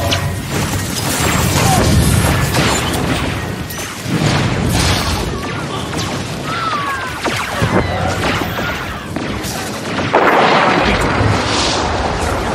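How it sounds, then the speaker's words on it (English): Artillery strike slamming into a ship during a Star Wars civil war warzone battle on Alderaan: loud, sustained booming crashes and rumbling impacts roll on for several seconds with a few sharper hits, no voices. "Artillery has locked on your ship."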